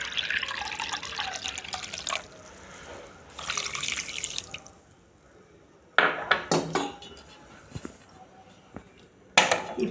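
A cup of water is poured into a pan to make sugar syrup for bread gulab jamun: two short splashing pours, then a few light metallic clinks of kitchenware, quiet and close.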